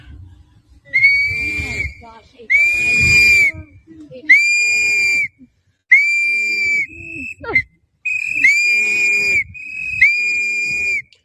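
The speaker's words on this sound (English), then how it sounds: "Oh, those whistles are annoying." Shrill whistles are blown repeatedly by many people in a crowd, loud piercing blasts in bursts of a second or so, with shouting mixed in.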